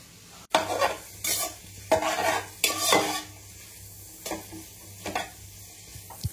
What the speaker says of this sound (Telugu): సో ఇలా ఎప్పుడు ఇక్కడే కలుపుతూ ఉండాలి, లేదు అంటే మాడిపోతాయి